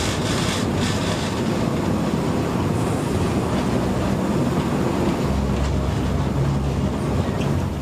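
Class 37 diesel locomotive 37250 on the Wensleydale Railway rolling slowly past sidings near Bedale Road, its steady engine rumble and wheel noise continuous and close throughout, with rattling, rubbing wagon-like clatter and no speech.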